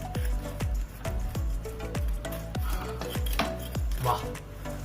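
A crisp eggless homemade waffle is broken or bitten into several times. Sharp crunchy cracks land in a steady rhythm, close and clear, with no talking.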